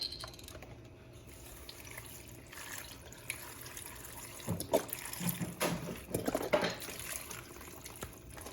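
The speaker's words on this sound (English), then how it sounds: "Just gonna go ahead and throw in the veggie broth and the veggie stock." Vegetable broth and stock poured into a large soup pot for a vegan caldo, a soft liquid splash that swells into several louder gushes toward the end, with no talking.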